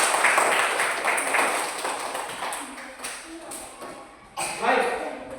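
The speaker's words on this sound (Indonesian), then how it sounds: "Tepuk tangan dulu untuk kelompok 3." A classroom of primary school pupils claps for a group after its presentation, a dense burst of clapping that fades and then swells again near the end, with voices talking over it.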